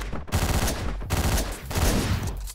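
Shotgun blasts in Hotline Miami: several dense, loud bursts of game gunfire, with brief gaps between volleys and no talk.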